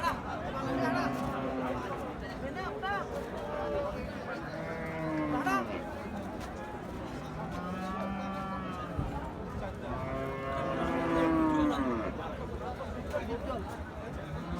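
Sahiwal cattle moo repeatedly amid a busy cattle market crowd, with people chattering all around; the lowing calls rise and fall over steady background voices.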